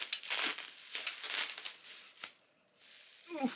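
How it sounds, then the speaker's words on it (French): Bubble wrap packaging crinkles and rustles steadily while a subscription box is unboxed; the handling is close but quiet, with a brief lull before a final crackle. "et là le papier bulle"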